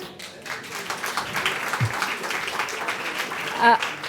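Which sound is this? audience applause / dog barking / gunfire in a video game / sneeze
audience applause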